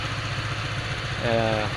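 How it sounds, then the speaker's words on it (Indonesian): A repaired Honda Vario 125 motorcycle engine idles steadily nearby with a low, even chugging rumble, and a voice talks over it. "Jadi inilah keadaan mesin Vario ini yang telah hidup kembali"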